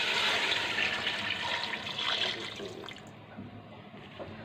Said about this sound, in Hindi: मैं इसमें 4 गिलास पानी डालूँगी,